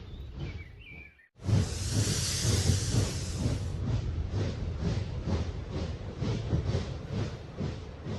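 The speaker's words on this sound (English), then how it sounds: "That's our train from last night." A train rolls past nearby with a sudden loud rush of hissing noise, then settles into a steady rhythmic clatter of wheels over rail joints.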